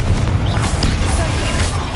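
Incendio fire spell cast in Hogwarts Legacy on PS5, a loud, dense roaring burst of flame with a heavy low rumble that holds throughout, mixed with voices.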